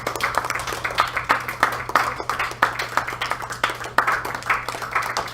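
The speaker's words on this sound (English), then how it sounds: "Can we give her a round of applause?" Small audience clapping after a talk on game audio, a thin scattering of individual claps with separate hand strikes audible, fairly close and steady for several seconds.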